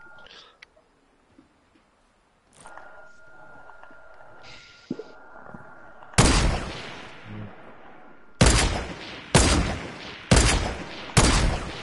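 Gunfire from long range in an online shooter: after a quiet stretch with scattered clicks and faint tones, five heavy booming shots ring out, each with a long decaying tail, spaced roughly a second or two apart, loud and without talk.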